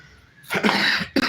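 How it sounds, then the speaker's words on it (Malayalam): A single sharp cough bursts out close up, followed by a brief second cough after a short gap. "ചുമയൊക്കെ പിടിച്ചു"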